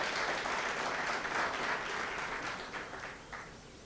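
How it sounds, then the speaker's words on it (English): Audience applause for teaching award winners at a national awards ceremony, a dense wash of many hands clapping that holds steady, then thins and fades toward the end. "Let's give them a round of applause."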